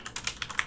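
Rapid keystrokes clatter on a computer keyboard while typing a git command, several crisp clicks in quick succession, close and alone.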